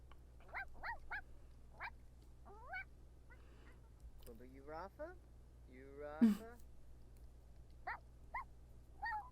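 A pet dog whines and barks for attention at home, a string of short, high, uneven yelps and whimpers close by, with a person's voice at times.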